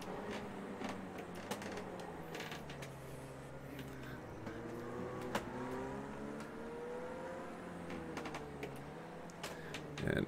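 Porsche race car engines in Project CARS 2 whine and rise through the gears during a hypercar race at Long Beach, a moderate, continuous engine drone under a speaking voice, with keyboard-like clicks scattered throughout.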